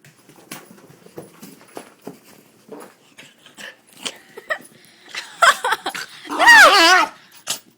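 A pet dog whimpers and whines indoors, a few soft breathy sounds early on and then a louder, wavering whine near the end, close by.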